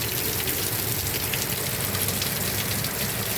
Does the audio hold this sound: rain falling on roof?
yes